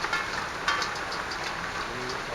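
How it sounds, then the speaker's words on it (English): Hail falling during a storm in Calgary's Mount Pleasant area makes a continuous close hiss and patter on outdoor surfaces, steady throughout, with a couple of slightly louder hits and no voices. "We are in the midst of quite a little hailstorm here."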